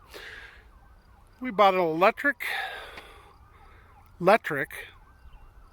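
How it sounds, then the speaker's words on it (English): An ambulance siren wails with a rising and falling tone, passing at moderate distance over steady background traffic, with a voice talking in bursts over it. "here comes the ambulance, or sounds like an ambulance"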